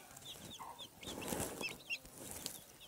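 Newly hatched chicks of an Aseel hen peep close by. Quick, high-pitched cheeps come in overlapping clusters, moderately loud above a low background rustle.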